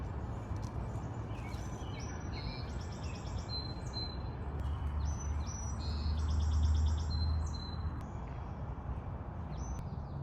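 Springtime birdsong outdoors around a parked van, several birds chirping and trilling in repeated bursts over a steady low rumble of background noise, moderately near.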